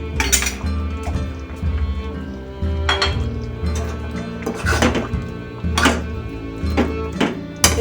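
Nabaratna korma, a vegetarian dish finished with ghee and shahi garam masala, is served onto a plate, with dishes and cutlery clinking and knocking in scattered bursts over a low steady background hum.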